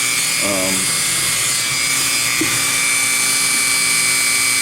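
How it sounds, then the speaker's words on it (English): An electric Dremel rotary tool grinds a latex prop seam at its lowest speed, giving a steady high-pitched whine with small shifts in tone as it bites. "which is still really fast for this electric escorted Dremel"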